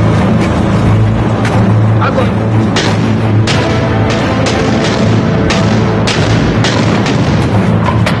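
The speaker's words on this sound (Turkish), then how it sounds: "16 Nisan'da savaşın en ağır silahlarıyla yapılan yaylım ateşi başladı." A heavy WWII artillery barrage on the Oder front booms without pause, loud, dense and close, with blasts layered over a constant rumbling roar.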